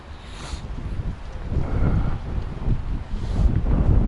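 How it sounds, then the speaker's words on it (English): Strong, gusty wind roars and buffets the microphone beside a lake in Ternopil, a steady low rumble that surges and fades, with no talking. "It's quite blustery, unfortunately."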